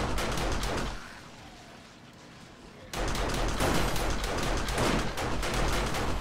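An auto turret in the zombie survival game 7 Days to Die unloads sustained rapid gunfire, loud and dense, breaking off briefly before resuming in a continuous barrage.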